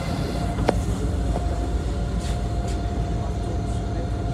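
Interior of Moscow city bus 344 running from Khovrino metro to Sovkhoznaya Street, a steady engine and road rumble with occasional rattles and clicks, continuous and moderately loud.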